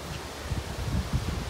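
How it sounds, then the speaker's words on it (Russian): Soft outdoor wind rustles and buffets faintly on a cold, cloudy, rainy day, a low steady whoosh with small gusty swells and no one talking. "Опять поднялся ветер."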